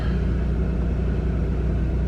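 A car engine idles steadily while warming up on a chilly morning, a low, even rumble that stays constant without clear revs, close and alone.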